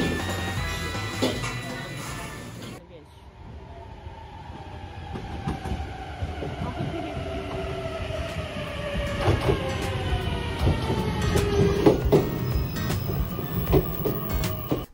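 A commuter train ride out of Fukuoka city in Japan: steady rumble of the rail car with rhythmic clickety-clack and a rising whine as it gathers speed, no talking.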